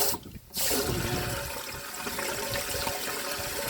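Tap water gushes from a pipe at a rainforest home, a steady loud rushing flow that starts after a brief quiet moment and continues without talking.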